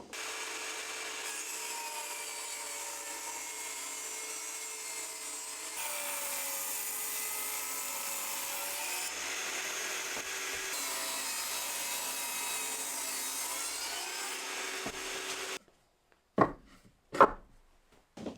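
Long, steady rasping strokes of a hand tool across wood, each lasting several seconds, followed by a few short sharp knocks near the end.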